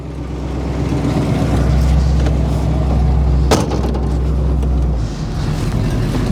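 A 1970 Oldsmobile Cutlass drives along a street, its engine droning steadily from inside the car with a brief clunk of a gear shift midway and a drop in revs near the end.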